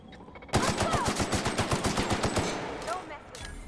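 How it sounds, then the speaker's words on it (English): Rapid automatic assault rifle fire in The Outer Worlds, a loud sustained burst of evenly spaced shots lasting about two seconds, then trailing off into quieter sound. "I'm loving this assault rifle."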